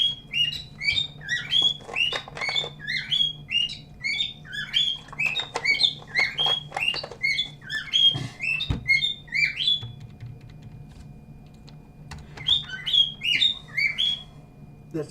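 A pet bird chirps indoors in a room, rapid bright tweets repeating in dense bursts and pauses, close and fairly loud, over a low steady hum.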